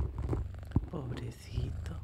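A small kitten's soft, low purring rumbles close up in a gentle ASMR roleplay, running beneath quiet whispered talk with a brief tap partway through.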